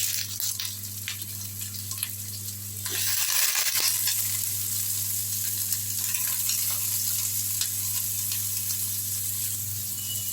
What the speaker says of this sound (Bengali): পেঁয়াজটা আমার একটু ভাজা ভাজা হবে, একটু লালচে লালচে হলেই ভালো লাগে দেখতে।